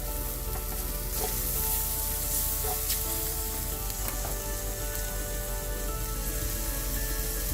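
Onions and mushrooms frying over fairly high heat in rendered burger fat give a dense, steady sizzle and crackle, with a few faint stirring scrapes and no speech.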